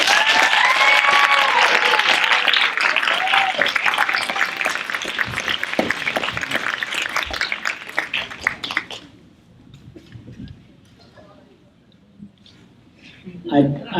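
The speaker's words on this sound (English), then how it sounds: "Give them a round of applause again, please." Applause from an audience at a sports awards presentation, a loud sustained clatter of clapping mixed with voices for about nine seconds, then dropping away to quieter room sound with a short burst near the end.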